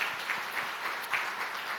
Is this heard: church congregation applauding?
yes